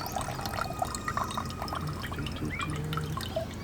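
Water pours and trickles into a Fire Maple X2 stove pot, a steady close liquid splash with small drips and gurgles over a few seconds.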